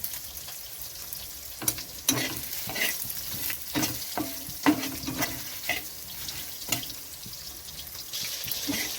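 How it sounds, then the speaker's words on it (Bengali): Spice paste fries in oil in a frying pan, with close crackling sizzle and repeated scraping stirs that come in irregular bursts, faint and without talk. "তো এখানে আমি মশলাটা দিয়ে দিচ্ছি ভাজার জন্য।"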